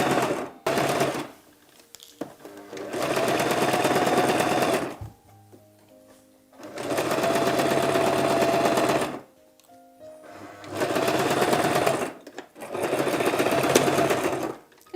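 A sewing machine stitches around the armhole of a little girl's dress in three loud, close bursts of rapid, rattling needle action, separated by short pauses and quiet handling.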